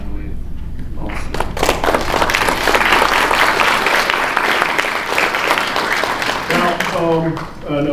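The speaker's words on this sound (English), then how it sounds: "Round of applause to 508." A banquet hall crowd at a 508th regiment reunion breaks into loud, sustained applause with scattered cheers, building after a brief opening and tapering near the end as a voice returns.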